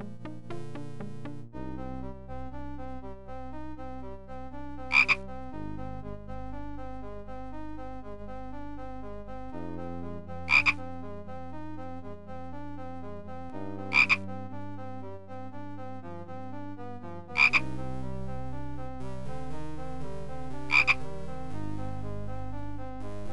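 Steady rhythmic frog croaking from the Simon the Sorcerer video game, a looping low pulsing drone with bright clicks recurring every few seconds, loud and close with no talk over it.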